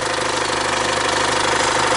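A 2011 Chevrolet Captiva engine idles up close with a steady, even mechanical rumble and faint rhythmic knocking, loud and continuous with no talking.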